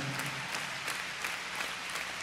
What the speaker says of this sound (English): Oh yeah, I know you can clap now.